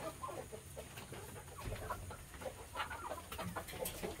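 Brahma chickens on a farm cluck and chatter steadily while being fed Madre de Agua leaves, several birds calling close by in overlapping bursts.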